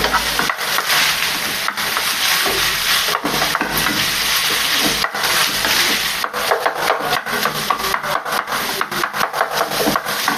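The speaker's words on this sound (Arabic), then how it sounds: "نحرك داكشي مزيان مع البصله" Onions and kofta meat are stirred and scraped around a pan in a steady, dense run of rubbing, scraping strokes, loud and close, with no talking.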